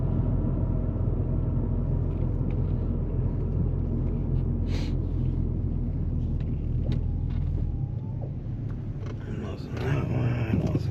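A Honda Civic drives along a road, heard from inside as a steady low road and engine rumble with a few faint clicks and light mechanical sounds, the drone easing briefly near the end.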